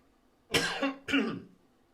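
Two quick, forceful coughs close by, separated by a short pause, in an otherwise quiet room.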